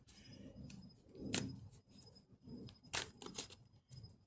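Tarot cards being given a quick shuffle, with several crisp riffling and slapping bursts between quieter rustling, close and fairly soft with no talking.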